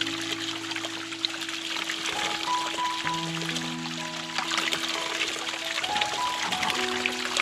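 Cold mountain water trickles and flows steadily close by on a Himalayan trek trail, a constant splashing stream with a faint hum underneath.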